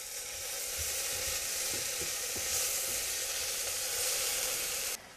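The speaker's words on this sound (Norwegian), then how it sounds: "Mens løken står og freser" Onions fry for soup in a pan, giving a loud, steady close sizzle with a few faint clinks of stirring, then stopping abruptly near the end.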